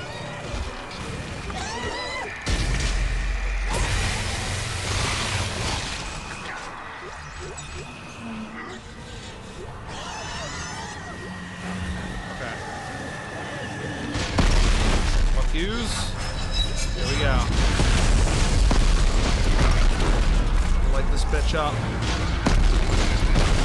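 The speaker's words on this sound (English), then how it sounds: "Now we probably gotta use the rocket launcher." Rocket launcher blasts and explosions in Dead Space 3, deep booming impacts and heavy rumbling that swell loudly toward the end, layered over game noise.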